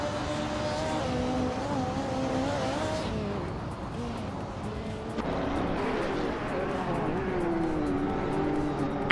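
Race cars in a racing video game, including a 1996 Opel Calibra DTM, drone continuously with shifting engine pitches as the tightening pack runs close together at steady volume.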